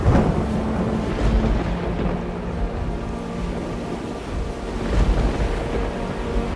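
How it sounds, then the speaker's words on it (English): Realistic storm sound effect of crashing waves, wind and low rumbling thunder, a continuous full roar with swelling surges near the start and again toward the end, no voices. "in this video we'll be creating a realistic storm effect"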